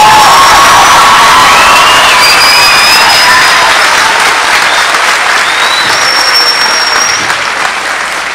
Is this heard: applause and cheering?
yes